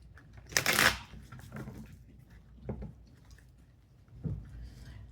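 Tarot cards being shuffled in a few short, soft riffling bursts and rustles, quiet and close, with pauses between them.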